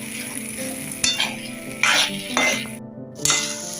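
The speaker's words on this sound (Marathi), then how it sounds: "आता ते पण कलर बदलेपर्यंत भाजून घ्यायचा, एकदम छान असा सोनेरी रंगापर्यंत भाजून घेऊया" Grated coconut and semolina dry-roasting in a pan over a high flame for coconut rava laddoos, a steady gritty rustle broken by sharp scraping strokes of a spoon against the pan, close and fairly loud.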